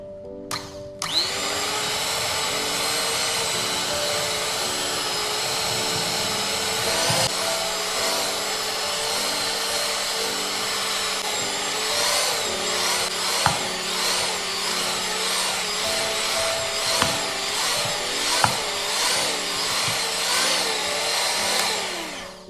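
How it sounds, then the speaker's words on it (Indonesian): A stand mixer kneads donut dough at medium speed, its motor whining loudly and steadily with a churning drone that holds unbroken for over twenty seconds, with no talking. "Lalu kita akan mix juga dengan kecepatan medium selama 5 menit aja"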